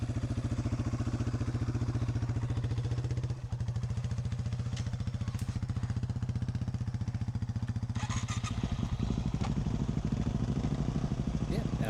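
A dirt bike engine chugs steadily at low throttle on a trail ride, a continuous near mechanical drone with a brief dip, then rougher throttle pulses and clatter toward the end, with wind or voice mixed in.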